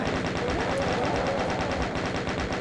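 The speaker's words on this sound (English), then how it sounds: "Switch back to the chain gun while we can here." A DOOM 2 chaingun fires in a fast, even stream of shots, continuous and fairly loud with no pauses, and nobody speaks over it.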